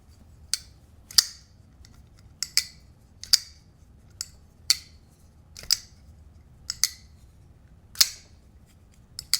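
Premium pivot lock folding knife flicked open and shut repeatedly, producing crisp metallic snaps and clicks about once a second, close and clear against a quiet background.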